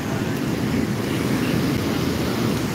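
Storm-surge waves whipped up by Typhoon Pepito pound the port at Nato, Sagñay, Camarines Sur, making a steady, dense roar of surf and wind with no break.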